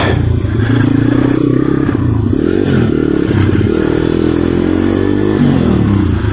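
A pit bike engine drones and revs unevenly on a go-kart track, its throttle rising and falling in short swells with mechanical clatter and scraping underneath, loud and close throughout.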